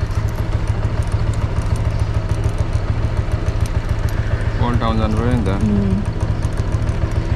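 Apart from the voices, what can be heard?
new Ramro scooter engine in Phuket old town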